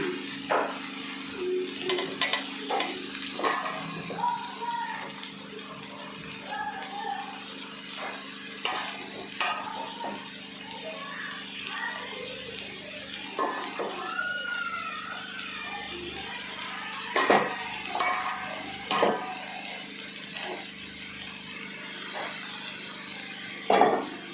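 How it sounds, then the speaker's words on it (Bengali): Chhana crumbled over vegetables in a pan being stirred, with repeated scraping and soft sizzling strokes, irregular clicks of a spatula against the pan over a steady low hum, no talking. "এবার আমি ভালো করে নেড়ে নিচ্ছি"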